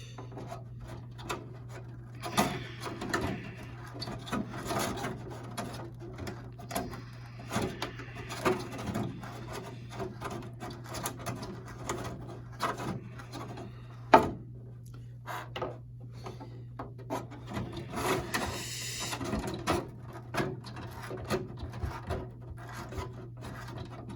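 Reamer enlarging holes in a Proline Jeep RC car body, soft intermittent scraping and rubbing scrapes with a low steady hum underneath and one sharp click partway through.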